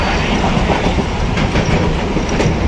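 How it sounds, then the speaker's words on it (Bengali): A train rumbles loudly close by at Katwa station, steady wheel clatter and rolling noise filling the moment with faint rhythmic clicks on the rails. "6:13 ট্রেন, এটা ধরে আমি কাটোয়া যাব।"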